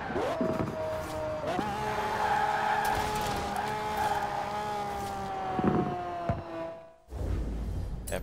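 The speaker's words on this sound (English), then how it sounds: "That poor engine nearly blew up." A racing car engine in Forza Horizon 4 screams at high revs, climbing through gear changes with tire squeal, loud and continuous before cutting to a brief low rumble at the end.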